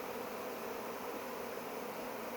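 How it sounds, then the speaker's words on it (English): A bee swarm buzzes around hive boxes in a back yard, a dense, steady, hissing hum of many insects that stays constant throughout with no talking. "Look at all these bees."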